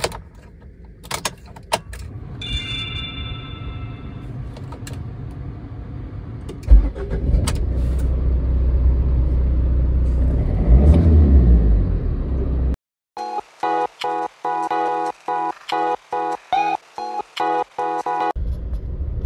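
A Tata Nexon car: keys jangle and a door clunks, then the engine starts with a low rumble that settles into a steady idle, followed by a run of rapid chimes or beeps near the end.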